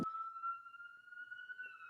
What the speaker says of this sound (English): There's this loud ass siren.